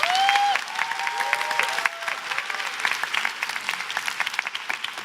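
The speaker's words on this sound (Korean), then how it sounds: "저는 이 박수도 되게 감사하면서도 부끄럽거든요" Audience applause fills a hall at a motivational talk by an English instructor, steady dense clapping throughout, loud and close, easing slightly after the first couple of seconds.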